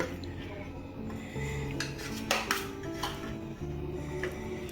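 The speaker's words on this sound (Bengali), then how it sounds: "এখানে আমি পাউরুটির যে সাইডগুলো আছে না, সেগুলো একটু কেটে নেব।" Knife scraping and cutting through the crusts of bread slices on a board, with soft rubbing strokes and light clatter of kitchen utensils, close and moderate in level.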